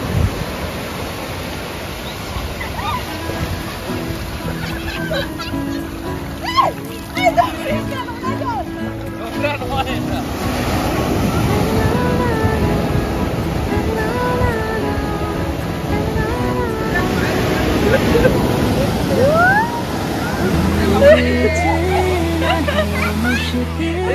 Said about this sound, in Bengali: খুব বড় বড় ঢেউ আসছে পুরীর সমুদ্র